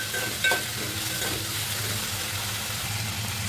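Boiled broad beans with dried red chillies and curry leaves sizzle in hot oil while being stirred, a steady close hiss of frying with occasional scraping stirs and no talk.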